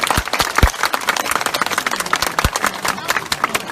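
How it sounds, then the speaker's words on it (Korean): An outdoor lecture crowd at a Roh Moo-hyun memorial talk in Bongha breaks into brisk applause, a dense patter of many hands with scattered louder claps and murmuring voices underneath. "박수 한번 보내주세요"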